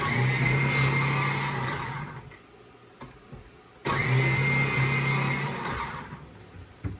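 A food processor chops zucchini with the seeds left in, whirring loudly in a steady motor whine. It runs in two bursts with a short quiet pause between them.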